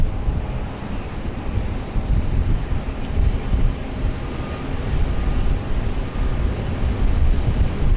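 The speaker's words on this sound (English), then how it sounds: "It's quite a long takeoff roll there for the Qantas 737 heading off to Adelaide." A Qantas Boeing 737 on its takeoff roll at Sydney Airport, bound for Adelaide, heard as a steady, distant, low rumbling roar mixed with heavy wind buffeting on the microphone.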